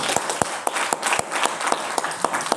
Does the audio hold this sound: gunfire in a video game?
no